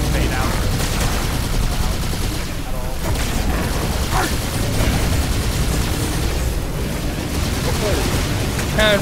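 An RPG rocket launcher firing in the Halo 2 video game, buried in dense, continuous gunfire and explosive booms, with voices talking throughout.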